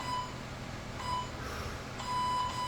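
Workout interval timer in a garage gym beeps three times at regular one-second spacing, thin electronic tones over faint room noise.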